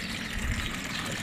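Water rushing steadily over leaves being washed in a cooking pot, a continuous close splashing gush lasting about a second.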